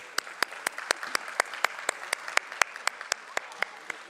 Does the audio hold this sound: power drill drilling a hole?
no